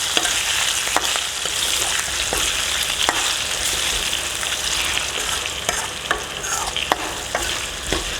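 Boiled potato pieces fry in a pan while being stirred, a continuous loud sizzle broken by repeated sharp scrapes and taps of the spoon against the pan.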